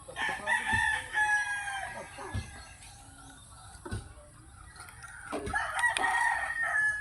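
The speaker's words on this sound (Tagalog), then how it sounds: "Mga manok ng native, oh, naggala." Free-roaming native chickens in a quiet village neighborhood among houses and small shops, with roosters crowing repeatedly and hens clucking at moderate distance over faint background ambience.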